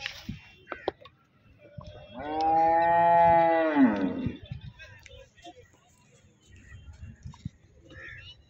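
Water buffalo at a livestock market gives one loud, drawn-out moo lasting about two seconds, close by, with brief clicks and faint voices before and after.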